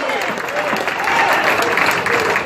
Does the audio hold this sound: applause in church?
yes